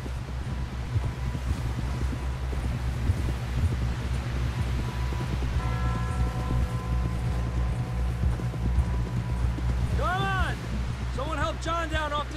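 Rapid rhythmic hoofbeats of a galloping horse in the video game Red Dead Redemption 2, over wind noise, with a voice speaking briefly near the end.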